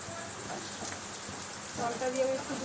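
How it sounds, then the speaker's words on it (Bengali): Food frying in a pan makes a short burst of dense, crackling sizzle that swells slightly near the end, with a voice speaking over it. "ফলটা দিয়ে আমি একটু ভেজে নিচ্ছি ভালো করে, তাহলে লালচে লালচে হবে ভাজাটা।"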